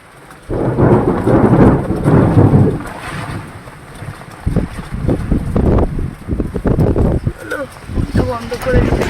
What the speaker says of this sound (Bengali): বাইরে হচ্ছে মুষলধারায় বৃষ্টি আর প্রচণ্ড পরিমাণে আকাশ ডাকছে।